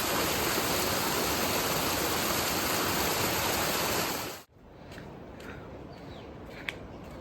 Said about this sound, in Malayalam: പോണ വഴിയിലുള്ള ചെറിയൊരു വെള്ളച്ചാട്ടമാണ് ഗൈസ് നിങ്ങൾ കാണുന്നത്.